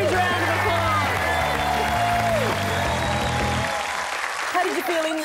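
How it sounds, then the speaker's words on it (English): Audience applause at a Guinness World Records attempt, broad crowd clapping and cheering that stays loud throughout, mixed with a music or tonal backing that drops out partway, with voices under it. "Let's give Tom another huge round of applause."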